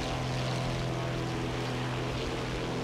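Propeller aircraft engines on a twin-engined light bomber in the War Thunder game, a loud, continuous droning hum with a steady low buzz and broad wind-like roar, unbroken and without speech.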